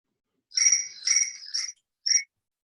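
Crickets chirp in short, clean bursts, three quick trills then one last chirp after a pause, clear and isolated against silence.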